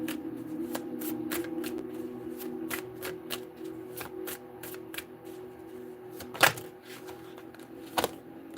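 Tarot cards are shuffled by hand in a quiet room, a steady run of crisp riffling flutters and soft slaps repeating close up, with two sharper knocks near the end.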